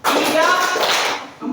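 A classroom of eighth-grade pupils claps hands on a spoken count, a dense burst of clapping mixed with voices, loud and close, fading slightly near the end.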